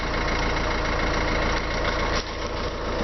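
A 2006 Mazda 3 with a 1.6 diesel engine rated at 110 hp idles up close, giving a loud, steady, rough rattling chug with a fast even rhythm and a brief dip near the end.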